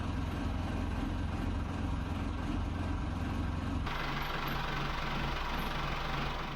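Vintage yacht engine idling quietly in a restored boat, a steady low rumble that shifts character midway, continuous and soft with no talk.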